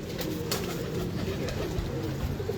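Abdullah Khan's pigeons coo continuously at close range, a soft rolling murmur with a couple of faint clicks.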